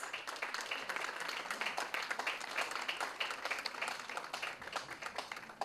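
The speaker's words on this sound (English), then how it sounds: "I request you all to give a thundering round of applause for the mesmerizing performance of" An audience claps steadily after a children's school performance at ARKA KIDS 2024 in Chennai, a dense, even patter of many hands continuing throughout at moderate distance.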